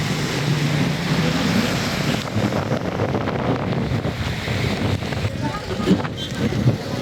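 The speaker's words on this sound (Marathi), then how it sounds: "हवा खूपच जास्त जोरात आहे." Strong wind at Dhanushkodi beach near Rameswaram roars continuously and buffets the microphone, a loud, rumbling broadband rush with gusty surges and possible surf underneath.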